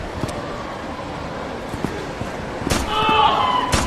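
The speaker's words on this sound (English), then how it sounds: "Gunfire." Gunshots in the VR police game Metacity Patrol, a few sharp cracks spaced irregularly through the clip, the last ones louder and closer, over a low background hum with a brief tonal game sound near the end.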